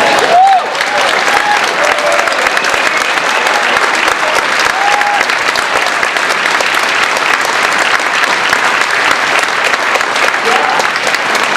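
Sustained loud applause from a large audience at a political campaign event in Exeter, New Hampshire, dense clapping that holds steady without letup, with faint voices briefly rising above it.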